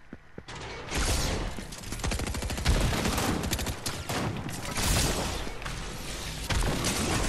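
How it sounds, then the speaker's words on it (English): Rapid semi-automatic rifle fire crackles almost without pause in a Fortnite Chapter 4 match, the weapon launching ballistic blades that detonate moments later, with booming blasts woven into the dense, loud volley throughout. "Semi-automatic powerful rifle that fires a ballistic blade at your enemies that detonates moments later"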